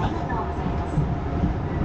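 A steady low rumble of a Hakone mountain railway train running near Gora Station, continuous and fairly loud from inside the carriage.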